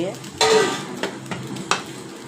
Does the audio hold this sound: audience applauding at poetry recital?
no